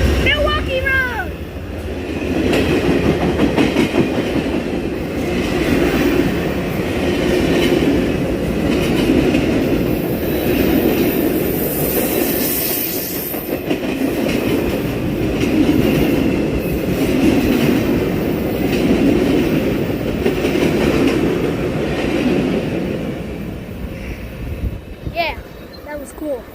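An Amtrak train led by two P-42 locomotives passes through Ashland, Virginia, with a close, loud, sustained rumble and rhythmic wheel clatter for about twenty seconds before it trails off, and people talk nearby.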